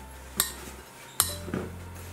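A spoon scrapes and knocks against a bowl while chopped nuts are stirred with sugar, giving two distinct clinks and some soft scraping in a quiet kitchen.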